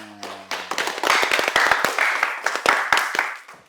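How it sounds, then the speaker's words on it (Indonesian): An audience at a talk clapping hands, starting with a few scattered claps that build into quick uneven applause and then thin out, fairly close, with a voice heard briefly at the start. "Tepuk tangan."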